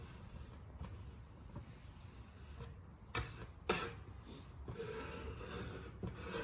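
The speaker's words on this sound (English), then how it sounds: "So you can scrape it like nice and smooth, as you can see." A paintbrush scrapes a thick layer of paint smoothly across a wood plank for a multicolor accent wall. Faint, close rasping strokes come in short bursts over a quiet background.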